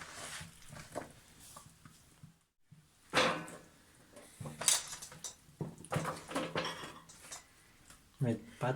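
Potatoes are set onto an oven baking tray in a home kitchen, making scattered clattering knocks and metallic taps at irregular intervals, with faint voices in the background.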